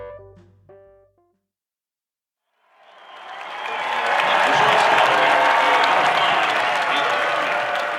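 A brief tonal snippet and a moment of silence give way to a baseball crowd of about 2,600 at Centennial Field, one of the oldest ballparks in the country. They swell into loud, sustained clapping and cheering.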